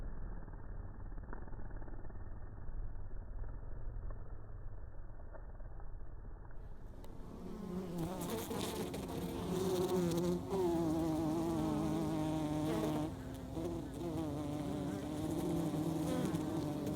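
Worker bees bring pollen into a hive, a dense swarm of buzzing that swells in loudness midway and holds steady, close and continuous with no voices.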